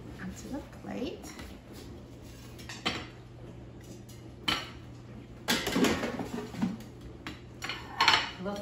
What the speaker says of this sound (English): Now let me take them onto the plate.